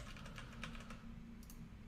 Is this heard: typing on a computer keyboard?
yes